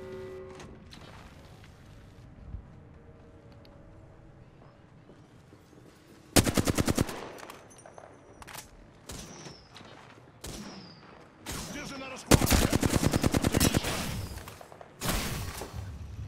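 Rapid bursts of automatic gunfire in a battle royale video game, loud close volleys that start and stop in several sharp clusters over a quieter background with faint single shots.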